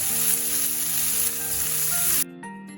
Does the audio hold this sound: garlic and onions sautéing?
yes